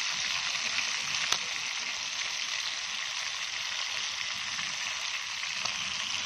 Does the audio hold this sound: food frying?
yes